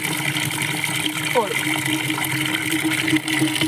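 Water runs steadily into a bucket for watering chili plants, a continuous gushing rush, close and fairly loud, with a voice talking over it.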